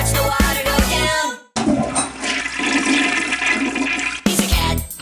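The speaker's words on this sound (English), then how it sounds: "He likes to push the handle and watch the water go down." A household toilet flushes loudly and close by, water rushing and swirling down for several seconds after a brief pause, with a louder gush returning at the end.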